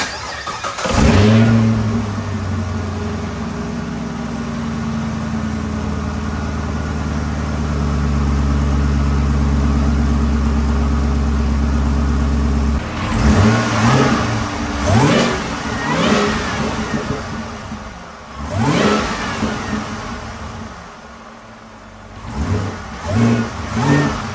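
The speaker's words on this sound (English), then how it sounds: "So we definitely still have some supercharger whine." A supercharged LT4 V8 in a Camaro ZL1 idles with a low drone, then revs sharply several times with quick rises in pitch, a thin supercharger whine riding each rev.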